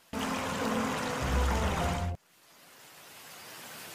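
Cartoon water pours out in a loud, splashy rush for about two seconds, thickening into a heavier gush before cutting off abruptly into quiet hiss.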